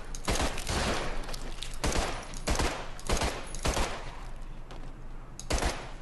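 Bursts of automatic gunfire in the Army of Two shooter game, separate volleys of rapid shots spaced a second or so apart, loud and close, with no voices over them.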